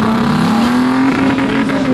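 Nissan Patrol ute engine revving hard offroad over rocks: a loud, steady engine drone with the pitch rising slightly, close and continuous for two seconds.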